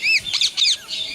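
A pet parrot lets out a burst of shrill squawks and chirps, three or four quick high calls in a row, close by and fairly loud, with no talking.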